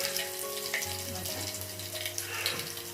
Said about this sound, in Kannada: ಇಲ್ಲೊಂದು ಸ್ಪೂನ್ ಎಣ್ಣೆ ಹಾಕಿದ್ದೀನಿ, 2 ಬೆಳ್ಳುಳ್ಳಿ ಜಜ್ಜಿ ಹಾಕೋತಾ ಇದ್ದೀನಿ